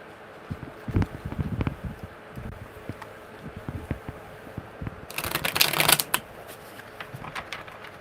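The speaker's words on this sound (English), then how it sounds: "Okay, one more good shuffle." Tarot cards being shuffled, with a quiet stretch of soft riffling and taps, then a louder burst of rapid shuffling near the end.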